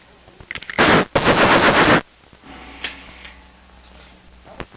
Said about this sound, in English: this time we'll do it with a modern police revolver like this